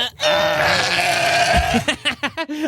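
A sheep bleats in a long wavering cry from a toddler's spin-the-wheel animal sound toy, followed by several shorter choppy bleats, close and fairly loud.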